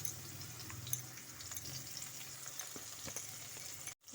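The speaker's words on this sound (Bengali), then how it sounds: "এখন আমি ওই তেলের মধ্যে বেগুনটাকে একটু হালকা করে ভেজে নেব।" Eggplant slices fry lightly in hot oil for a Bengali prawn-and-greens dish, giving a steady close sizzle with scattered crackles and pops throughout, ending in a brief drop to quiet.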